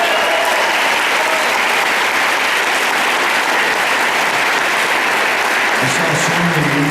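Theater audience applauding at the Music Box during a Q&A, a dense, steady wash of clapping that fills the room and carries on throughout at full strength, with a little crowd noise mixed in.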